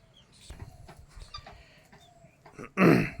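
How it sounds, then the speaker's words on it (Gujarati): Turkey chicks and hens in a farm coop give soft scattered clucks, closing in a loud, close burst of fowl calling near the end. "આ બીજા ટર્કીના બચ્ચા છે, એમાં 4 ટર્કીના બચ્ચા છે"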